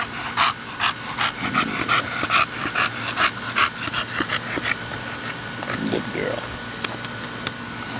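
A bulldog pants rapidly and steadily close by, with rhythmic breathy huffs and a brief whimper partway through.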